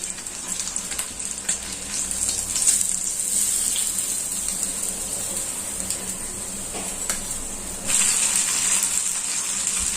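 Fish frying in oil on a dosa griddle, giving a steady, loud hiss and sizzle that rises in intensity near the end, with no voices over it.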